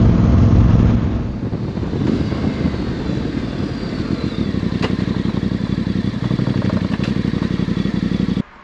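A motorcycle rides into a country lane: a loud, continuous engine drone with a fluttering exhaust pulse runs throughout, then cuts off abruptly near the end.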